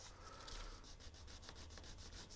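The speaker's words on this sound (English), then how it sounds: "rub off some of that excess glue." Glue is rubbed off a paper lantern in quick, rhythmic scrubbing strokes, faint and close, with no talking.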